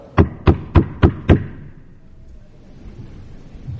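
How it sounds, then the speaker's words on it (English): Five sharp, evenly spaced knocks on a door ring out close and loud in quick succession, followed by a quiet room tone. "you hear a knock at the door"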